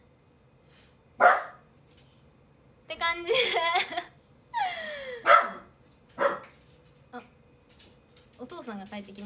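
A dog barks indoors, several sharp, fairly close barks with a short whimper, spaced across the clip while someone talks between and over them.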